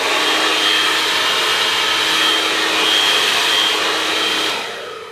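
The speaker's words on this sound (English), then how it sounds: "Here is the conventional blow dryer." A conventional hair blow dryer runs at full power with a loud, steady, broadband whoosh and motor whine, close by and unbroken, trailing off slightly at the very end.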